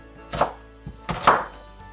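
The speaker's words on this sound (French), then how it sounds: "Je découpe les oignons et les tomates en dés." A knife dices onions and tomatoes for a courgette stuffing, two crisp chops landing about a second apart, with a faint tap between them, close up and alone.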